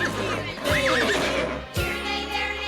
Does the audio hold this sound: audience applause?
no